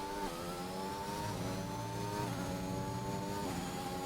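Several race cars in a Bahrain racing video game leave the pits on their outlaps, engines droning steadily with repeated gear shifts and pitch drops, overlapping and moderately distant throughout.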